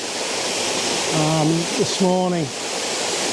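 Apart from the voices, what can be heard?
waterfall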